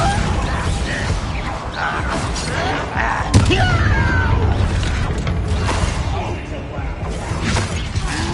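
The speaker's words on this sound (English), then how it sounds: "Bombarda!" A Bombarda spell goes off in a Harry Potter video game as a sharp, loud burst. It cuts through a dense, continuous bed of game noise, with voices speaking around it.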